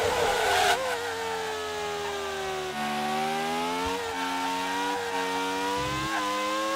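A Ferrari Formula One car in the Grand Prix 2 racing game at the Italian circuit, its high engine whine holding steady and loud, with pitch dipping and rising through gear changes.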